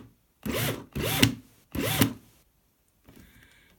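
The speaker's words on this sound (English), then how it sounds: "I'm going to turn on the drill." A handheld power drill whirs in three short bursts of about half a second each, close and fairly loud, with a fainter mechanical rattle after them, while a wire tree is being made.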